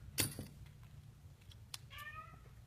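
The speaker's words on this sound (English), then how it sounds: "And I got a dumb cat in here making noise." An indoor cat gives a couple of short, sharp meows in a quiet room, close to the microphone, with faint background noise between calls.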